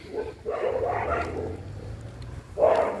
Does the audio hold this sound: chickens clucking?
no